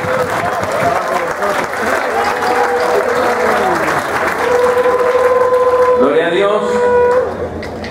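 Applause from a congregation at a church camp, dense continuous clapping running for several seconds and then dropping away at the end, with tonal voices rising over it.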